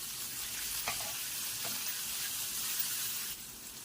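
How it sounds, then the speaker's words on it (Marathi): Garlic, green chili slices and peanuts are sautéed in a pan, giving a steady close hiss of frying oil broken by a few brief stirring scrapes. "लसूण, हिरव्या मिरचीचे काप आणि शेंगदाणे घालून 2 मिनिट परतून घेऊया"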